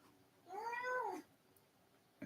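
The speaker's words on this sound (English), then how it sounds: "that's my cat here" A house cat lets out a single drawn-out meow, close and clear against a quiet room, followed by a brief faint click.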